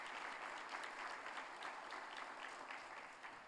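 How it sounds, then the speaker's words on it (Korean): A church congregation at a Sunday service applauds warmly, sustained even clapping from the whole room that gradually tapers off, heard at a distance and fairly soft. "우리 박수로 한번 격려를 하겠습니다"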